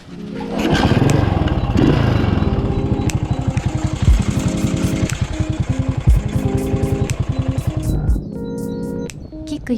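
A Yamaha SR motorcycle single-cylinder engine catches on one kick and settles into a loud, close, rapid thumping idle that holds steady.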